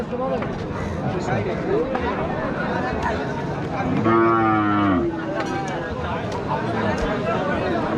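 A Sahiwal cross calf moos loudly nearby over a busy cattle market crowd, with people talking and babbling all around.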